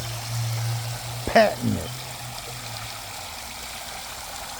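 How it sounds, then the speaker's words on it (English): Water flows steadily from a homemade swimming pool waterfall, a soft continuous trickle and splash under a man's brief speech. "I see nobody with this cool waterfall"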